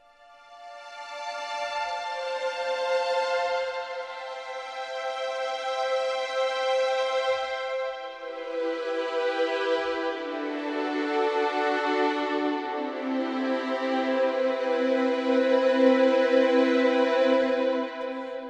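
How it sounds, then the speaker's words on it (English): Orchestral instruments playing sustained harmonic chords through Spitfire AIR Studios convolution reverb, swelling and shifting continuously for the whole stretch with a spacious lingering tail and no talk. "So we can hear the convolution reverb at play there."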